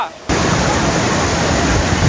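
Bhavli waterfall near Igatpuri, a loud, dense roar of falling water that bursts in abruptly after a brief quieter moment and then holds steady and close.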